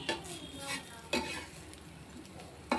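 A spoon scrapes and stirs a ragi and peanut mixture in a pan in three distinct strokes, close and fairly soft, with a faint sizzle between them.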